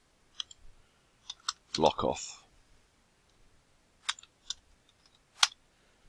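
Sparse computer keyboard clicks come in short bursts of a few keystrokes separated by pauses, with a brief spoken phrase in the middle.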